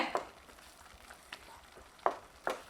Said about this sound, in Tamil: இப்போ ஒன்று சேர நல்லா கலந்து விட்டுட்டு இறக்கி வச்சுக்கலாங்க